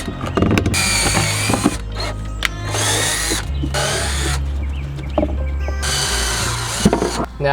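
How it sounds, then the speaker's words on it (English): Power drill boring holes into the bottom of a battery box for an MK4 GTI battery relocation, loud bursts of whining motor with short pauses between, close up. "just drill 2 holes in the bottom of the box"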